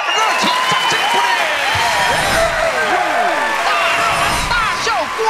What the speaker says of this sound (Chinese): 再次谢谢他们给他们热情掌声鼓励